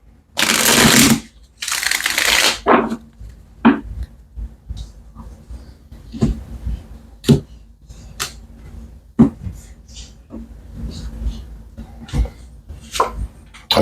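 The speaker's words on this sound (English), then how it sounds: "let's get this last shuffle" Tarot cards being shuffled by hand: two long, loud riffling bursts at the start, then a run of scattered taps and soft card shuffles through the rest, close to the microphone with no talking.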